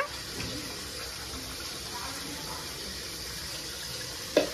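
Running water rinses soap and shampoo off during washing, a steady close gush like a tap filling a sink, with a brief knock near the end.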